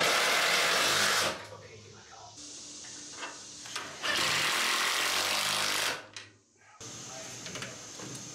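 An impact driver fitted with a socket drives fasteners during shed construction, giving loud, sustained bursts of rattling hammer-whir that stop and start several times, with brief quieter gaps between runs.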